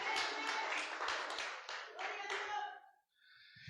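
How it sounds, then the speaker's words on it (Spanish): Church congregation clapping in praise during a Spanish-language service, a burst of many hands that rises, then thins and fades out near the end, with a few voices mixed in. "Denle un fuerte aplauso al Señor Jesucristo"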